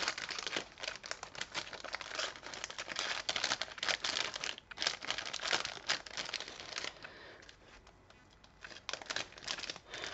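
Paper crinkles and rustles in busy, uneven bursts up close as a small handmade Christmas scrapbooking pouch is wrapped, with brief pauses and no speech.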